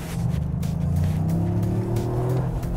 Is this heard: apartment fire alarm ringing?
no